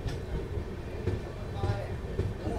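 A Golgumbaz Express sleeper coach runs along the rails, a steady low rumble with recurring wheel thumps at rail joints, heard from inside the carriage.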